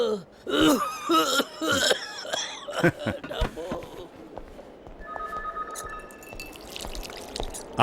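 A man coughs hard and clears his throat in a few harsh, close bursts early on, then a quieter stretch follows with faint ringing tones.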